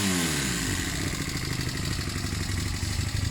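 A Honda CB250 Nighthawk motorcycle engine, a cafe racer build with freshly cleaned carburettors, roars at full throttle, loud and close, a sustained rasping drone with no talking.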